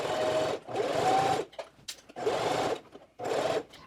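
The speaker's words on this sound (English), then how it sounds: "I'm going to move my needle over, and then I'm just going to sew all the way around." Sewing machine stitching around the edge of quilted jacket fabric, in three close, steady bursts separated by short pauses for turning the work.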